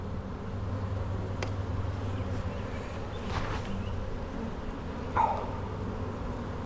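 A dense, continuous hum of many honeybees buzzing close up inside a hive, steady throughout with a few faint knocks and shuffles.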